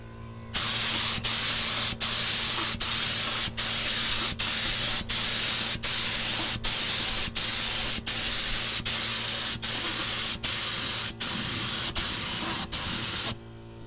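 A Harbor Freight HVLP paint spray gun sprays solvent in about a dozen even, hissing bursts. Each burst lasts under a second with brief gaps between, close and loud.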